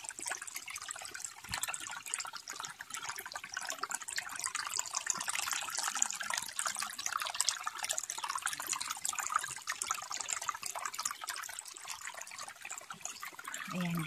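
Creek water trickles and burbles continuously over stones, a soft, steady stream flowing nearby with no voices.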